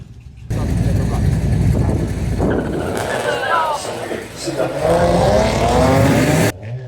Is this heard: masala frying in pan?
no